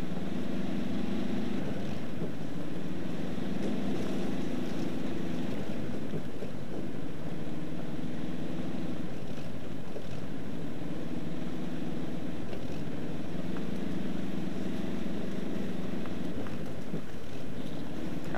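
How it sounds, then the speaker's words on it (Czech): Truck engine in the off-road driving game Spintires MudRunner, a steady low droning rumble held under constant throttle, with periodic swells in pitch as the revs rise and fall, continuous and fairly loud with no talk. "nastartujeme a zmáčkneme plyn a nepouštíme plyn"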